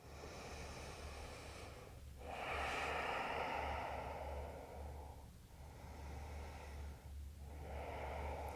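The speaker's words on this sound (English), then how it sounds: "keeping the breath flowing." Slow, audible breathing during an evening yoga wind-down flow, with long airy inhales and exhales that come and go in waves against a quiet low background hum, close and fairly soft.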